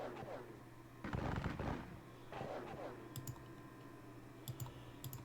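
Artillery volleys in the Civil War strategy game WDS Gettysburg, a few faint, low booming bursts with rumbling tails, followed by scattered small clicks.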